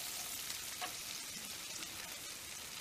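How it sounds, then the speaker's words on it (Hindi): Home-grown onion and garlic frying in a pan for broccoli vegetable fried rice, giving a steady, faint, hissing sizzle throughout with no voices. "मैंने अपने बगीचे की प्याज लहसुन वगैरह डाली है"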